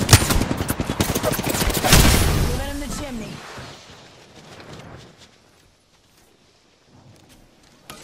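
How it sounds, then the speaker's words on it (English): Heavy automatic gunfire in the Apex Legends battle royale game, a rapid loud burst of shots with a booming blast that fades into a long tail and near silence. "Opening fire."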